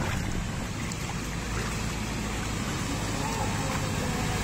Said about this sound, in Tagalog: May ibang sasakyan na motor, sinusuong.